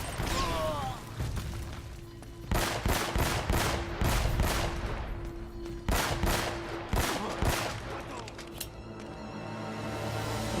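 Video game gunfire from Uncharted: Drake's Fortune while advancing inside a church: loud, repeated bursts of rapid shots with sharp metallic clanks between volleys.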